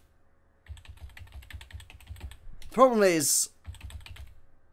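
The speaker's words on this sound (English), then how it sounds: "I'm still using the Mac keyboard, which has a much higher pressure sensitivity" Rapid clicking keystrokes on a Mac computer keyboard run through most of the stretch, close and steady, with a brief burst of speech cutting across the middle.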